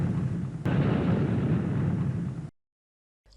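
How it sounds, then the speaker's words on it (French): A loud cartoon explosion in an animated story, a sustained, roaring blast with a sharp onset lasting about two seconds before cutting abruptly to silence. "ça explose de partout"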